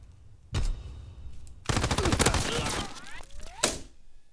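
Machine gun fire in Call of Duty WW2: a sharp single shot, then a sustained loud burst of rapid automatic gunfire lasting over a second, followed by ricochet-like whines and a final crack.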